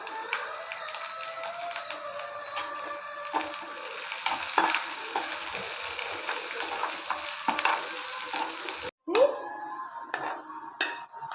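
Curry leaves are tempered in hot oil for a vegetable kuruma, giving a steady crackling sizzle with occasional spoon clinks and pops against the pan, close and moderately quiet, ending after a brief gap.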